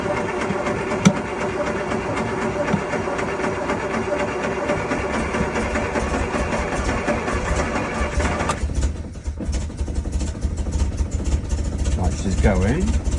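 A Land Rover Lightweight with a suspected carburettor fault runs with a close, continuous mechanical chatter that stays steady and loud, its tone dropping partway through, with a person talking over it.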